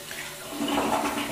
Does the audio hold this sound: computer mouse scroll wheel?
no